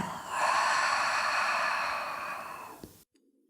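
A long audible exhale during yoga breathing practice, breathy and fairly close, swelling quickly and then tapering over about two and a half seconds before cutting off into near silence, with no talk.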